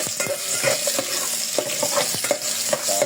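Garlic and onion sizzle in a pan for sinigang na ispada, a steady close hiss broken by repeated scraping stirs of a utensil.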